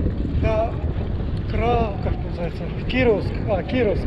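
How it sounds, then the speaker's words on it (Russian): Wind buffeting a microphone during a headwind bicycle ride on a road between Mogilev and Bobruisk, a continuous rumbling roar throughout, with someone speaking over it. "и встречный ветер, жесть"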